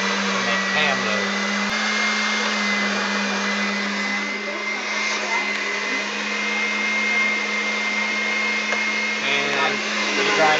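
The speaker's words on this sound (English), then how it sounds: "And you grind it all up." An electric meat grinder grinds ham and sausage for ham loaf, a loud steady motor whine with a low hum running throughout, close and unbroken, with no speech over it.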